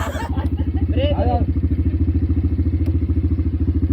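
A new sports motorcycle runs at a steady idle nearby, its engine throbbing in a fast, even rhythmic pulse throughout, with a brief voice heard over it early on.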